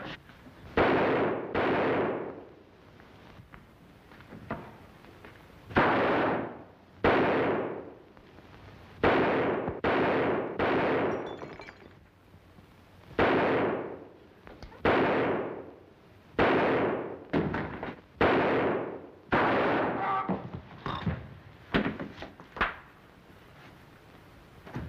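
A gunfight from a 1937 crime film crackles with many irregular shots, some in quick clusters and others isolated, at moderate loudness over an old, slightly hissy soundtrack.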